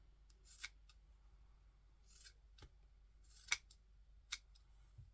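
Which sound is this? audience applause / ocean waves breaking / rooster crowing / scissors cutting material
scissors cutting material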